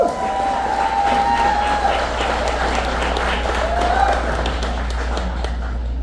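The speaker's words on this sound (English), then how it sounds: "let's get a round of applause for our military and veterans and for Club 214." An audience at a benefit event applauds military members and veterans with steady, sustained clapping and scattered cheers from a crowd, close and fairly loud.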